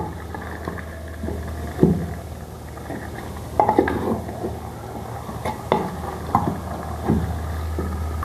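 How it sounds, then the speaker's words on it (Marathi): Chicken is stirred in a small clay pot with spices at the bottom, giving soft scraping and occasional light knocks against the pot over a low steady background hum. "हे चिकन आपण याच्यात टाकलेलं आहे ते व्यवस्थित हलवून घेऊया"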